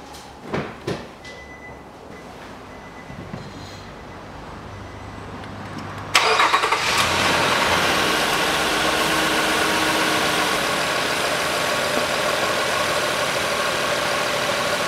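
A 2010 Nissan Murano Z51 after a CVT oil and filter change: a few clicks and knocks, then the starter cranks and the engine catches, settling into a steady, close idle hum.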